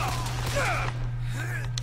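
Gunfire in a first-person shooter video game, several shots popping over a steady background hum, with a voice speaking over the action.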